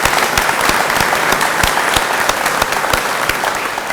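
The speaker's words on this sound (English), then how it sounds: "Let's give them a round of applause for everything y'all do" An audience at a welding technology center announcement claps in loud, sustained applause, a dense rattle of hands with sharp individual claps popping out, continuing steadily with no talk.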